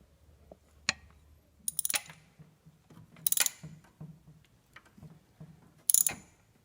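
Short metallic ratchet clicks sound in scattered bursts while a temperature gauge sending unit is tightened on a Fiero GT. The clicking is fairly quiet, with pauses between strokes and no talk.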